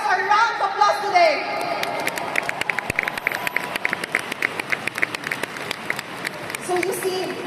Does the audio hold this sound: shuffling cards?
no